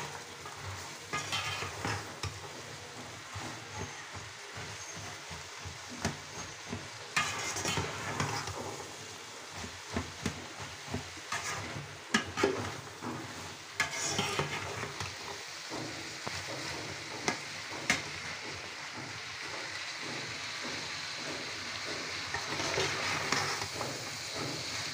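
Chickpeas for boot bhuna stirred and fried in a pan, a soft continuous sizzle under repeated scraping and clinking strokes of a spoon against the pan, close by and fairly quiet with no talk.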